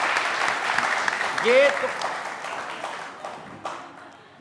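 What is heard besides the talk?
studio audience applause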